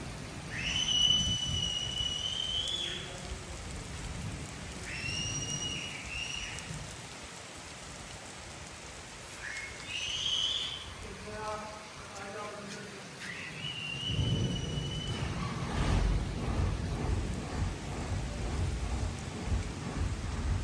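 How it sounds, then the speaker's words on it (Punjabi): Rain falls over Punjab farm fields with low thunder rolling in the distance, a constant soft patter beneath, and bright chirping bird calls breaking through now and then. "ਉਧਰ ਮੀਂਹ ਪੈਣ ਲੱਗ ਗਿਆ"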